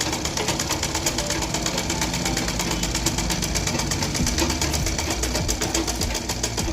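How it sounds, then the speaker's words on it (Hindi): A sewing machine stitches the side seam of a blouse, running with a rapid, steady mechanical clatter throughout, loud and close with no pauses. "तो साइड का भाग हमें सिल कर तैयार कर लेना।"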